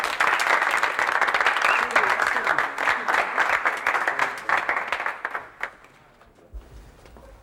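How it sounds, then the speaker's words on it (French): An audience applauds a first customer in a French drama episode, with dense, steady crowd clapping for about five seconds that thins out and fades away near the end. "Mesdames et messieurs, applaudissez très fort notre première cliente."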